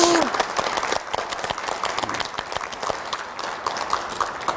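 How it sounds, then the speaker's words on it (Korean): A studio audience at a Korean church talk show breaks into applause, a burst of scattered clapping that thins out while voices and laughter carry on through it. "이건 박수를"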